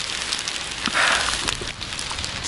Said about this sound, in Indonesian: Sudah hujan, hujannya cukup deras ya ini.